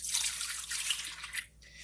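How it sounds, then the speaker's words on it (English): Beef broth is poured into a Crock-Pot slow cooker for creamy pork chops, a brief splashing, trickling stream of liquid that runs for under two seconds and then tapers off. "we're going to add the beef broth in"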